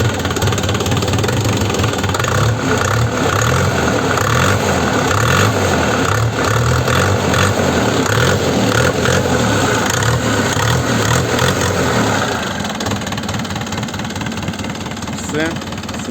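A Chinese tractor engine idles while warming up from cold, with a steady, loud mechanical rumble, and a voice talks over it throughout.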